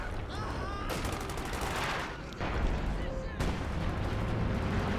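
Booming artillery and rattling gunfire in Company of Heroes 2 during an urban Axis versus Allies battle, several heavy blasts rolling over continuous combat noise.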